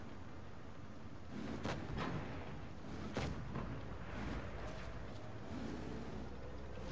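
Tank shell hits from the game World of Tanks Blitz sound as several dull booms and thuds over a constant low engine rumble, fairly faint and muffled.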